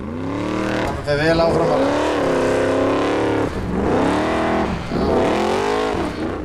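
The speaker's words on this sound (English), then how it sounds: "The only car with a purpose-built Chevrolet LSX engine. Listen to that exhaust sounds." Chevrolet LSX-engined formula offroad race car in a competition at Hafnarfjordur, Iceland, its exhaust roaring loud and close with rising and falling revs across repeated bursts of acceleration, with a commentator talking over it.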